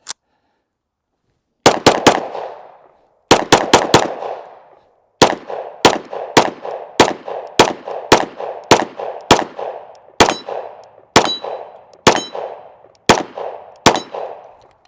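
A Sig Sauer P226 X5 Legion pistol fires a string of loud, sharp shots, first single and in quick pairs and triples, then a steady rhythmic sequence, each crack ringing briefly outdoors.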